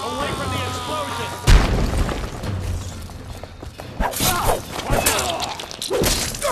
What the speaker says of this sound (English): Away from the explosion!